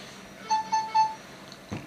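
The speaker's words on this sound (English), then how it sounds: "That was my phone." A mobile phone gives three short, clear electronic beeps in quick succession, moderately loud, followed by a brief soft rustle.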